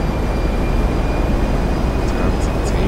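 A GTA 5 airplane's engines drone as a steady loud broadband roar with faint high whine tones while it takes off, with a few short chirps near the end.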